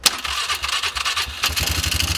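A 2006 Polaris Sportsman 500 HO quad that sat unused for four or five years cranks and fires up, with a sharp starter burst followed by a close, uneven, rapidly pulsing engine idle.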